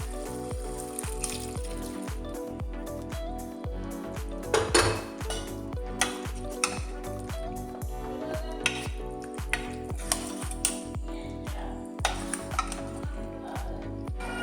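Beef tripe going into a hot pan and sizzling, with a steady fry and repeated scrapes and clinks of a utensil against the cookware, close and continuous.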